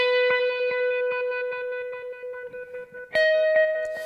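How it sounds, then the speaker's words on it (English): Electric guitar through a tremolo effect patch synced to 74 BPM, a steady sustained note pulsing rhythmically in even beats, then shifting to a new, brighter note that keeps throbbing with echo. "here's what that weird tremolo thing sounds like by itself"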